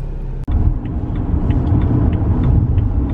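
A BMW 335i tuned to MHD Stage 2+ driving on the road, a steady low engine and road rumble that settles in after a brief click, heard close from inside the car with no talk.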